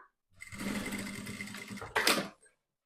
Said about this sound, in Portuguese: Vou costurar primeiro um lado para ele ficar posicionado.